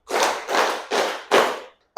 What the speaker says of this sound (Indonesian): Tepuk 4 kali.